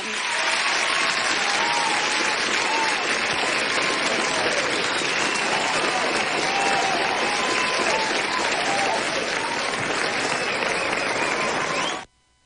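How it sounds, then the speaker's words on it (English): A round of applause played on a live street radio broadcast for a caller, a thick, continuous crowd clapping that holds steady and loud for about twelve seconds before cutting off abruptly. "That's why I give you a round of applause."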